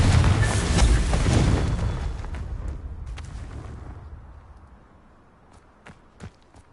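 Confringo blast spell from Hogwarts Legacy: a loud booming explosion that rumbles and slowly decays over several seconds, with a few faint clicks near the end.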